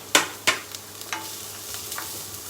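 Carrots, broccoli and cauliflower sautéing with ginger and garlic for a manchow soup, a few sharp clattering stirs in the pan at the start, then a faint ongoing sizzle, close and without talking.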